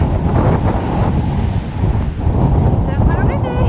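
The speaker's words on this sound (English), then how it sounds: "Oh, here comes the wind again." Steady gusty wind roars across a microphone on a rocky hiking path, a continuous broadband rush that swells and dips without letting up.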